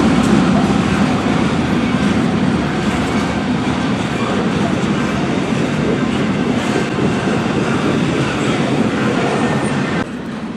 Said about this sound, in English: caught an eastbound BNSF intermodal train as it was just getting off the Frisco Bridge